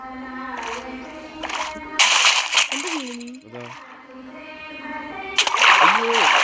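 Bursts of splashing water in Minecraft as a player reaches an underground water source, several choppy splashes over a couple of seconds, mixed with a voice talking.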